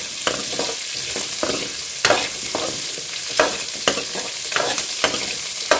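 Five chopped big onions fry and sizzle in a pan for a Tamil fish curry, with a steady hiss broken by repeated scraping stirs at an uneven rhythm, close and fairly loud, no talking.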